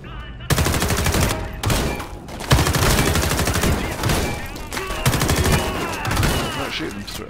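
Gunfire in Homefront The Revolution, sustained rapid automatic bursts broken by short pauses, loud and close, with game noise filling the gaps.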